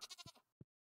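A goat in the video game Stardew Valley gives a short, wavering bleat, quiet and alone, followed by one brief low blip before silence.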